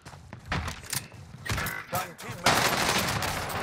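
Gunfire in MB gameplay, a first-person shooter, crackles in several sharp shots and then settles into a dense, sustained rattle in the second half, with faint background noise throughout.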